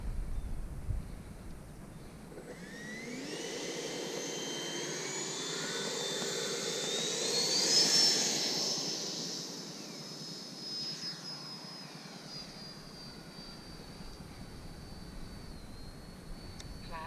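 A Freewing L-39 Albatros 80mm electric ducted-fan model jet spools up and takes off, its loud rising whine swelling as it passes close and then easing off into the distance outdoors, with no speech.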